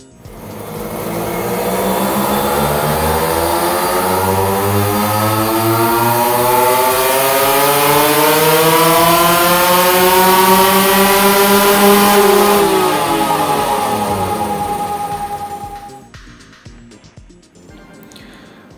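A motorcycle with a relay-fitted CDI revs on a dyno test, its engine pitch climbing steadily for about fifteen seconds, loud and close, then cutting off abruptly to a quiet idle.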